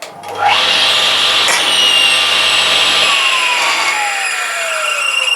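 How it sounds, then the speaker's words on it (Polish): A W.D.S table saw powered on, its blade spinning up with a rising whine to a loud steady high-pitched drone that holds, then begins to coast slightly lower, close by with no speech. "Ale spróbuję na razie włączyć tę piłę, zobaczymy czy się działa."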